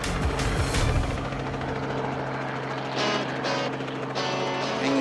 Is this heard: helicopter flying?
yes